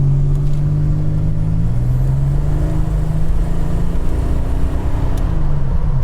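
A 1987 Buick Grand National accelerating on the road, its engine droning steadily with a rising then settling tone, heard close from inside the car, loud and continuous without talk.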